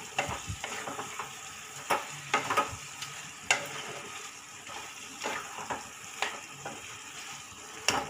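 Unripe jackfruit is stir-fried with spices and a little sugar in oil, with repeated scraping spatula strokes about once a second over a soft, continuous sizzle.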